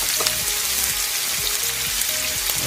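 Chopped onions sauté in hot oil in a pan for arroz caldo, giving off a steady close sizzle with a faint hum underneath and no talking.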